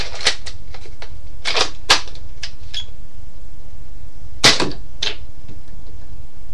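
Modded, spray-painted Recon CS6 toy blaster firing at night: a series of sharp, clacky mechanical snaps, several close together then spaced out, fairly near with little else around.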